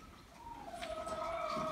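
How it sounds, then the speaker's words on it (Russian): A faint, low chicken call rises in a short drawn-out note over quiet background noise, soft and somewhat distant. "Молодцы, молодцы, курочки."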